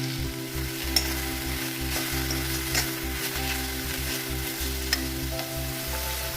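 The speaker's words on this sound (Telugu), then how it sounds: "సన్నగా తరిగి పెట్టుకున్న పాలకూరని ఈ పోపులో వేసి ఒక 5 to 10 minutes మగ్గించాలి." Finely chopped spinach sizzles in tempering oil for palak dal, with a continuous close frying hiss, stirring scrapes and a few sharp pops over a low background hum, with no talking.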